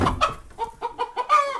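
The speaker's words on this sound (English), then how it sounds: "And you got a hen on this one." A hen clucks in a homestead nesting box, giving a close series of short, rhythmic clucks and low murmured calls, with no talking.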